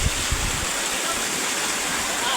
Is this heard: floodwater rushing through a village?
yes